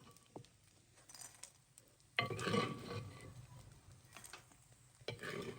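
Fried edible gum (gond) is lifted out of hot desi ghee in a village kitchen, a soft sizzle and stirring scrape swelling suddenly midway, with faint clinks of a utensil against the pan.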